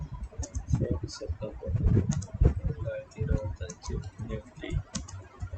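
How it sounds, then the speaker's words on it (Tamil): Computer keyboard typing clatters in quick, irregular bursts of clicks close to the mic while someone talks over it. "இருங்க நான் டைப் பண்ணிடுறேன்"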